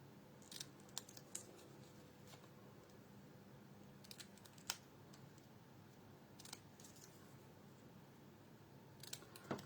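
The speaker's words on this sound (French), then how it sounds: "On va venir couper ça en fanion" Scissors snip paper into small pennant shapes in a quiet room, with a handful of sharp, crisp cuts spaced irregularly, some in quick pairs, over a faint background hum.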